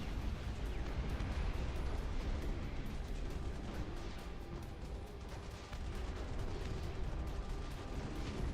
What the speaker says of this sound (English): Big bombs.